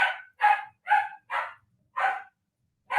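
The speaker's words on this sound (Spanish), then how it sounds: "¿Se filtra el ruido del perro?" A dog barks six times in a steady, evenly spaced series, close and loud against a silent background.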